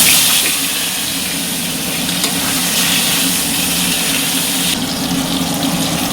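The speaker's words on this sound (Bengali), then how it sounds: "মাছগুলো ভাজা হয়ে গেছে, এবার আলুটা ভেজে নেই" Boiled, drained potatoes frying in hot oil in a pan give a steady, loud, hissing sizzle that runs without a break and with no talking.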